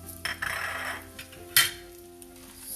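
Cumin seeds and red chilies sautéing in a little oil in a pan for peanut chutney, a soft sizzle with scattered clinks of utensil against the pan and one sharper scrape partway through.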